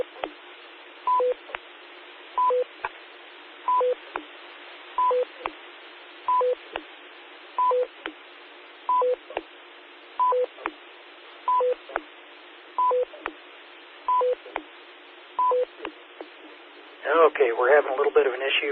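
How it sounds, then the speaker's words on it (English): Unwanted tone bursts key up a ham radio repeater, short paired beeps repeating about every second and a half over a constant hiss of radio static, with a garbled voice breaking in at the very end. "Something keeps keying up the repeater here."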